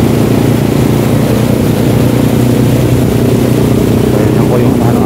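A motorcycle rides along Manila's Roxas Boulevard past Dolomite Beach, flooded by Super Typhoon Carina, with a loud, unbroken engine rumble and wind roar that stays constant throughout.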